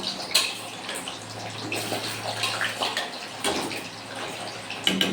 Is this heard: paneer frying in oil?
yes